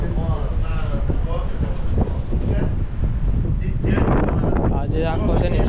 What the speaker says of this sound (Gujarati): એકદમ ઠંડો પવન છે.